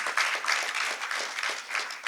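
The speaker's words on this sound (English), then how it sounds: "Can we please give a round of applause to our coaches?" Audience applause rises for a team's coaches at a sports gathering, a dense steady patter of many hands clapping together, fairly close and even, with no voices over it.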